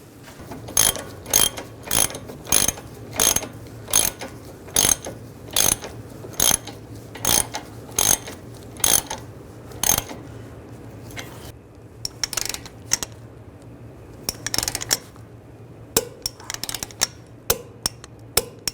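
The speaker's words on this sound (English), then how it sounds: "You want to tighten this nut down." Wrench ratcheting steadily while tightening the front lower ball joint nut on a 2006-2009 Mercedes-Benz E350, close and crisp, with regular clicking strokes repeating for several seconds, a short pause, then quicker uneven bursts.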